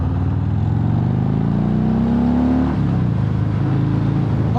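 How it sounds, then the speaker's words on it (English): A Harley-Davidson Fat Bob 114 motorcycle accelerating in second gear, its engine note climbing steadily and loud up close before it eases off. "Let's just give it a bit of second gear roll on."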